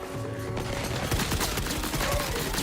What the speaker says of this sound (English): I'm trying to use the assault rifle a little bit